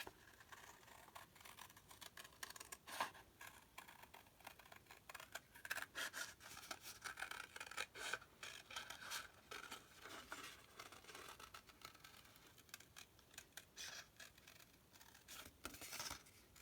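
Scissors snipping through paper while a peanut-shaped body and head are cut out for a Thanksgiving craft, heard as a quiet, uneven run of close cuts and rustles.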